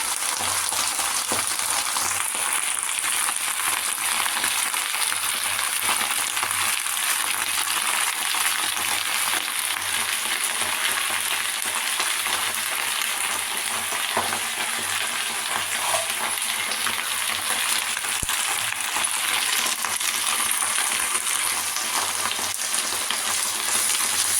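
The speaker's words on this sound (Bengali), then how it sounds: "শাকটাকে ভালো মতো নেড়ে দেবো" Rai mustard greens stir-frying in a pan with salt, a steady, close sizzle that holds for over twenty seconds, with soft scraping and stirring noises mixed in and no talking.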